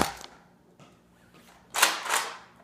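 A First Order Stormtrooper E-11 Nerf blaster fires up close with a sharp snap and a short whoosh, followed by a second burst of noise. Both bursts are brief and come after a quiet stretch, with no talking.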